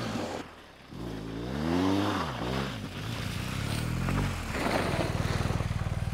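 A BMW off-road motorcycle engine revving and bogging as it performs a skid turn into a power slide, a loud, close engine note rising and falling in pitch, ending in a steady throbbing idle.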